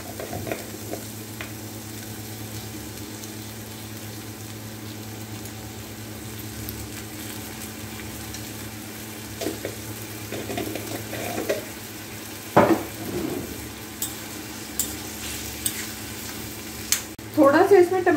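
Food sizzling steadily in a pan as it is stir-fried and roasted in a home kitchen, a soft continuous fry with occasional louder scrapes of a spoon stirring near the end.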